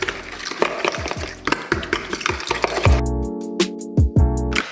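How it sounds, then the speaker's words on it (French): Pancake batter being whisked with a fork in a bowl, producing rapid clinking taps and scrapes in an irregular rhythm, close and fairly loud, with a few sharper pings toward the end. "maintenant vous mélangez avec la fourchette"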